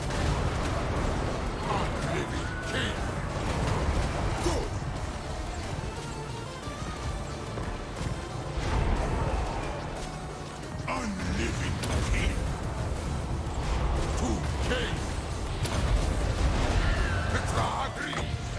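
Flame cannon artillery fire in a Tomb Kings battle in the Mortal Empires strategy game, with repeated booming shots blended into a continuous, busy din of fighting units and clattering mechanisms.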